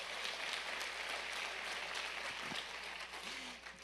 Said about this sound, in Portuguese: Você pode dar mais uma salva de palmas a Jesus então?